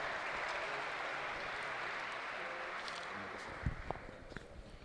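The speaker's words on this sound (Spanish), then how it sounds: "Huge round of applause" Audience applause welcoming a speaker at a business conference on Mexican exporters, a sustained wash of clapping that thins out toward the end into a few scattered claps and footsteps.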